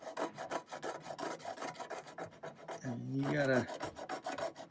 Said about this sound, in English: I can scrape it off with a fingernail